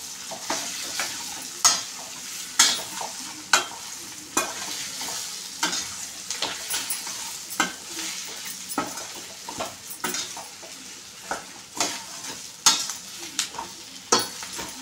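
Sliced okra sizzles in hot oil in a pan while a spoon or spatula stirs it, producing repeated scraping clacks at an irregular rhythm over a steady, close frying hiss, with no talking.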